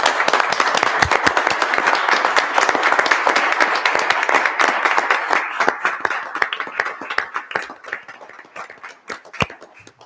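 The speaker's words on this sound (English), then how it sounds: "I ask you just to give a round of applause to Jason Cuthbert for all his great work" A room of attendees at a town board meeting clapping together, dense rapid applause that holds steady for several seconds and then thins into scattered individual claps.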